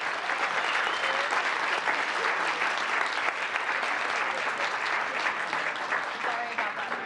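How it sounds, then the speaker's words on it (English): Audience applause fills a town council meeting, a dense, steady clatter of many hands that holds at full strength for about seven seconds without a break. "Another big round of applause for group 3,"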